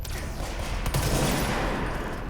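Dense, sustained gunfire from the video game Control fills the whole stretch, rapid overlapping shots in a loud continuous barrage with no pauses.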